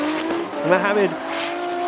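An E36 BMW drift car squeals its tires against the wall at a drift competition, a loud, wavering high screech rising and falling over engine roar, with a commentator talking over it.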